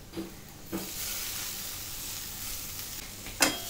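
Halved tomatoes drop into roasted masala frying in hot oil, raising a steady sizzling hiss with a couple of soft stirs and a sharper burst of spitting near the end.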